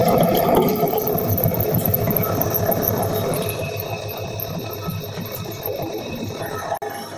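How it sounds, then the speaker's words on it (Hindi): A chakki flour mill driven by a 2 HP single-phase motor at 250 RPM grinds wheat, giving a loud, steady mechanical whir and rattle that holds constant throughout with no talking. "इसमें हम गेहूं की पिसाई कर रहे हैं"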